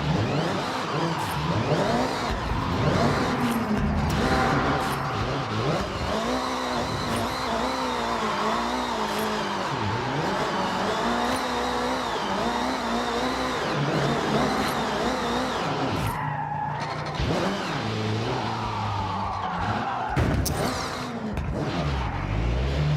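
Engine revving and tire noise from a car drifting in the racing video game Forza Horizon 6, a steady loud roar with rising and falling pitch and brief squealing slides, no talk.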